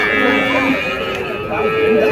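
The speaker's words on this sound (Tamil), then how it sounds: "ஸோ நாட்டு மாடுங்க." Native cattle lowing at a large Friday open-air cow market in Krishnagiri District, a close, loud drawn-out moo with rising and falling pitch amid crowd noise.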